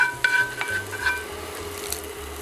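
A spatula scraping the bottom of a frying pan while masoor tadka dal cooks, a few distinct close scrapes over a soft sizzle with a low steady hum in the background.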